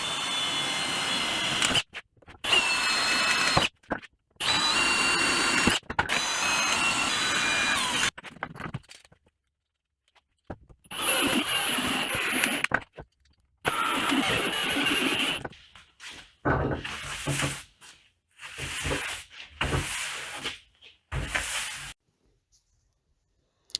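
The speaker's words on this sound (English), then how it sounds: "making a big racket while unbolting this saw from its current stand" A table saw being unbolted from its stand with power tools: repeated loud bursts of drilling and whirring, broken by short pauses and a quiet gap midway, with clanking in between.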